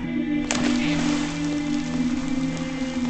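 Steady rain falling on a surface, a dense continuous patter with a low hum underneath and a brief louder splash near the start.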